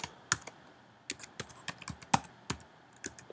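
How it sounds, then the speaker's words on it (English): Keys tapped one at a time on a Chromebook keyboard while a password is entered, about a dozen crisp, uneven clicks close by with no talking. "you're going to type in your current password"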